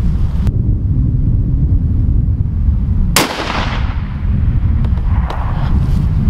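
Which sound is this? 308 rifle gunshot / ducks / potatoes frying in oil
308 rifle gunshot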